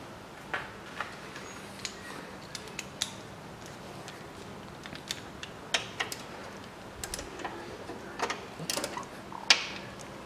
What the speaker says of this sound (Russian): Откручиваем болты.